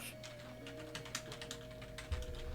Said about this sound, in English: Don't stop your typing.